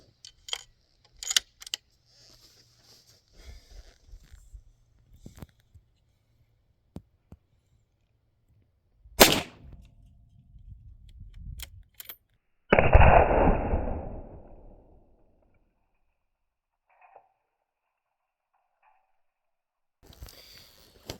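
A suppressed .308 rifle fires a 150 grain Sabre Blade round into 1-inch press board outdoors, giving a single sharp report with a short rumbling tail, amid sparse clicks and handling noises.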